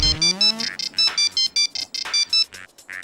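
A bright electronic phone ringtone repeats in short rhythmic bursts, fairly loud and close, with no talking over it.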